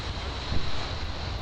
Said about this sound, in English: It's an Airbus A319 arriving in from Dallas